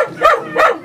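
A puppy barks twice in quick succession, two short yapping barks close to the microphone with a brief pause between them.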